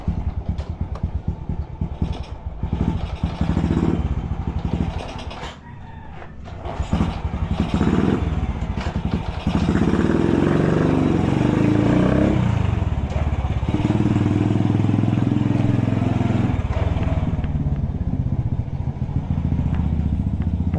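A Honda Wave 100 motorcycle engine runs, with a rough chugging idle and mechanical clatter at first, a brief dip, then a louder sustained revving drone that holds steady to the end.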